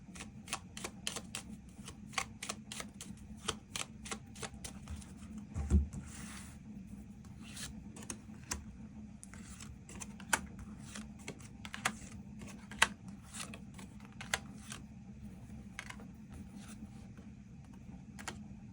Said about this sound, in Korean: 추가 카드 뽑아보도록 하겠습니다